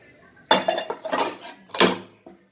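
Dishes, pots and steel utensils being scrubbed and washed at home, with loud clattering bursts of metal clanks and clinks alongside running water, close and busy.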